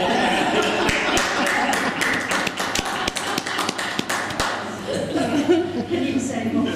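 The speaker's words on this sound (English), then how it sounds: "I'm not sure what that applause was" Applause from an audience at a talk in Brecon, a dense run of claps and taps that stays loud throughout, with some chuckling mixed in.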